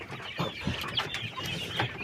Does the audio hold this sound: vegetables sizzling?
no